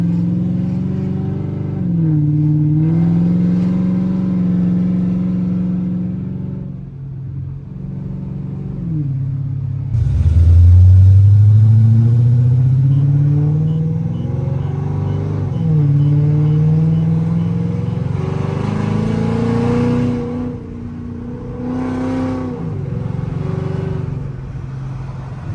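A Chrysler 300C 5.7L HEMI V8 engine revs up and down repeatedly, its deep rumble rising and falling in pitch through several throttle blips, close and loud.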